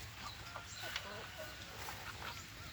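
Soft, repeated hen clucks over a steady background hum, with chicks' brief chirps scattered through a noisy farmyard ambience.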